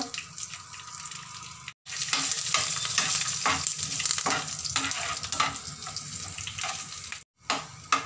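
A tadka of peanuts, curry leaves, chili and asafoetida crackling and sizzling in hot oil, loud and close, with stirring scrapes and two brief silent cuts.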